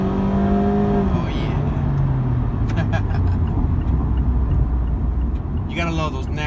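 A Mazda MX-5 RF with a naturally aspirated engine accelerating through the gears, its rising and falling engine note over heavy road rumble, with a voice briefly speaking near the start and end.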